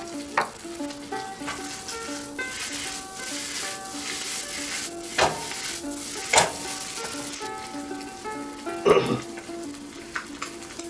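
Dried red chillies frying in a hot pan for a cumin chicken stir fry, a steady close sizzle with occasional pops and scraping stirs, with no one talking.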